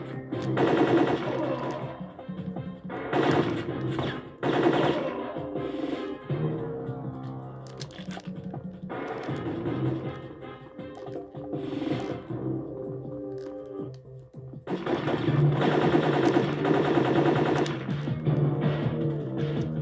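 Bursts of rapid video game gunfire under a steady music-like bed, several loud volleys of automatic fire spread across the stretch with quieter gaps between.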